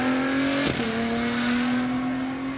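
A tall competition vehicle powers up the hill at the Festival of Speed after spinning, its engine a steady loud drone with a brief surge of broadband noise near the start and no talk.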